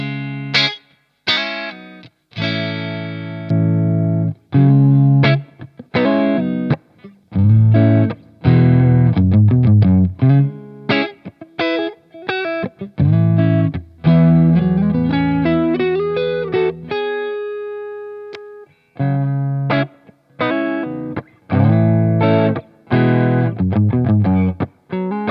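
A Telecaster electric guitar played through an amp and a Wannabee overdrive pedal, crunchy driven chords and single-note phrases in short bursts separated by brief silences, loud and close, no voices.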